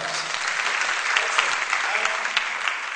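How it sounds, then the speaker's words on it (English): Conference attendees at a media festival welcome session break into loud, dense applause, a sustained wash of clapping close by with no gaps. "I think you all deserve a round of applause."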